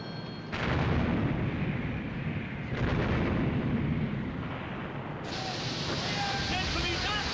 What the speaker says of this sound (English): My God, she's firing again! With another 2 turrets!